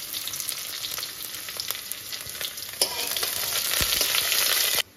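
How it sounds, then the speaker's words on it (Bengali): Sliced onions and chopped garlic frying in a pan until lightly browned, a steady close sizzle with soft crackles throughout and a brief stir partway. "পেঁয়াজগুলো হালকা ব্রাউন হয়ে গেছে, এর থেকে বেশি ভাজা আমার মনে হয় না দরকার আছে।"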